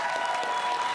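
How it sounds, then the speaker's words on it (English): Studio audience applause on a comedy panel show, a dense, steady patter of many hands clapping at once, moderately loud and continuous throughout. "Give him a round of applause."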